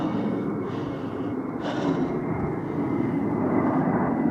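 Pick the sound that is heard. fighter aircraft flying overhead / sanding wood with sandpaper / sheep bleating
fighter aircraft flying overhead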